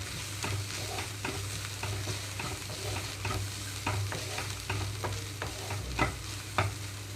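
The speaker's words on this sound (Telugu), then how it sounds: "అల్లం వెల్లుల్లి పేస్ట్ మీడియం ఫ్లేమ్లోంచి ఇప్పుడు లో ఫ్లేమ్లోకి టర్న్ చేసుకొని అల్లం వెల్లుల్లి పేస్ట్ కొంచెం వేగనిస్తున్నాను" Ginger garlic paste fries on a low flame, a steady soft sizzle under repeated scraping stirs that come in a loose, regular rhythm.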